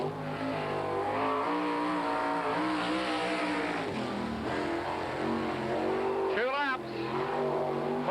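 A 1987 World of Outlaws sprint car, the Allen Knott Honda Gambler, runs a qualifying lap at Hales Corners with its engine roaring and rising and falling in pitch, and an announcer talks over it.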